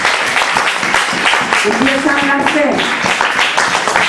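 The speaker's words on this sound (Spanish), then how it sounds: "Un aplauso de ustedes." Audience applause rings out at a Sunday church conference, steady clapping from the crowd while a speaker's voice talks loudly over it and a musical tone drifts in the middle.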